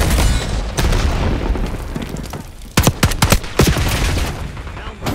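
Frag grenade explosion in Call of Duty Black Ops 6 multiplayer, a loud close boom amid rapid gunfire bursts and a scattered burst of sharp cracks, the battle noise dense throughout.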